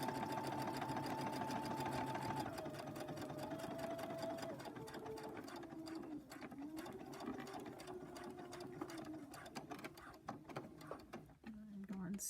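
A sewing machine back-stitches across the tie of a fabric face mask, its needle running in a steady rapid chatter that shifts pitch as the speed changes, with short pauses near the end.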